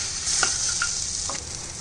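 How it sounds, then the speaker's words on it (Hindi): Crispy chickpeas are tossed and stirred in a hot pan, a continuous loud sizzle with a few brief scraping and clinking stir strokes, no talking. "अब हम इसके अंदर चने डाल देंगे और इसे मिला देंगे"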